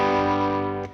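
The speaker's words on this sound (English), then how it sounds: "I also have one of the overdrive pedals on the amp turned on." A single electric guitar chord through a Morning Glory overdrive pedal and amp, strummed once and sustaining with a gritty, driven edge before being cut short, close and alone.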